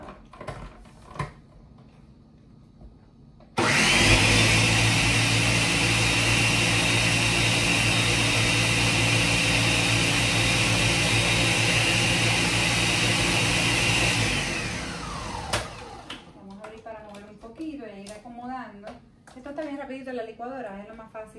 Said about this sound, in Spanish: Vamos a prender nuestra licuadora. Prendo nuestra licuadora.